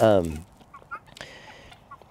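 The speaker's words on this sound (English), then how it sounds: "These are guinea hens. They're quite loud, so I'm sorry if that's interfering with the recording." Guinea hens call outdoors in a vineyard, opening with one loud, harsh, close squawk and followed by fainter scattered chirps and cackles in the background.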